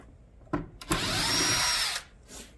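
A power drill backs out the fixing screws on a Samsung 9 kg front-loading drum washing machine. A short blip is followed by a steady whirring run of about one second that stops abruptly, close and fairly quiet.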